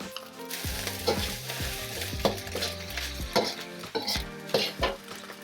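Salt fish fried rice stir-fried in a hot pan: loud continuous sizzling with repeated scraping and tossing strokes of a spatula at an uneven rhythm, close up and with no talking.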